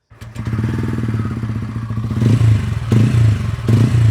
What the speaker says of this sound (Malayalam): ഭയങ്കര ലൗഡായിട്ടുള്ള സൗണ്ടാണ് നമ്മുടെ ഈ ഒരു റോണിൻ്റെ എക്സോസ്റ്റ് സൗണ്ട് എന്ന് പറയുന്നത്